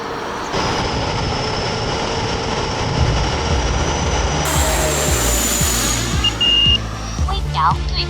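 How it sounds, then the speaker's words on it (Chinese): Large model sixth-generation jet aircraft launched from the roof of a moving car: a loud, steady jet-engine roar and whine mixed with vehicle and wind noise, shifting in pitch as the throttle rises for takeoff. "全部检查完毕，就可以进行起飞测试了"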